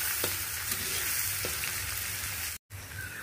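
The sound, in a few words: frying chopped potatoes in a pan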